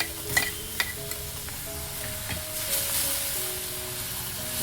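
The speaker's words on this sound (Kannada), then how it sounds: "ಮೀಡಿಯಂ ಫ್ಲೇಮಲ್ಲಿ ಇಟ್ಟು ಚೆನ್ನಾಗಿ ಫ್ರೈ ಮಾಡ್ಕೊಳ್ಳೋಣ." Steady soft sizzling of semolina frying in a pan over a medium flame, with a few faint scraping stir sounds near the start.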